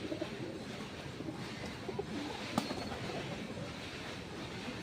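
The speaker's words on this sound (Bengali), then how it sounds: "তো দুটো পায়রা হাতে আমি দেখাই আইসটা।" Giribaj pigeons held in the hand coo softly and steadily, a low murmuring purr that runs throughout at close range, with no talking.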